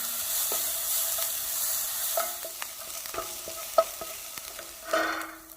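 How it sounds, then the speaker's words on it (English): Onions sautéing in oil with a pinch of salt, a steady hiss of sizzling with intermittent scrapes and knocks of stirring, one louder clack midway and a brief burst near the end. "Saute my onions. Pinch of salt, and cook these until they are sauteed and translucent."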